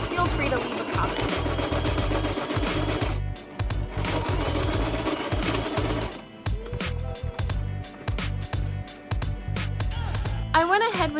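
A sewing machine stitches elastic along a shirt sleeve in fast, close bursts of rattling stitches with brief pauses, under a speaking voice.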